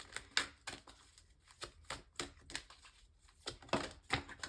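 Tarot cards shuffled and drawn during a Pisces reading, heard as a fast run of crisp, close, rapid riffling snaps and flicks with irregular rhythm, alone without talk.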